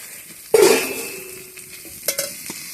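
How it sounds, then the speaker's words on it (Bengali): Chopped tomato dropped into boiled potatoes in a hot pan gives a sudden loud sizzle that fades, followed by a few brief scrapes and clinks of stirring, close by. "আলুর মধ্যে এবার টমেটো কুচিটা দিয়ে দিলাম"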